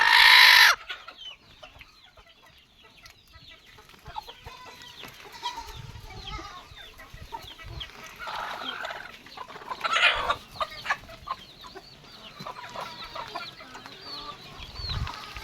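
Desi chickens on a poultry farm cluck and squawk continuously, with a loud burst at the start and several nearby birds calling over one another throughout.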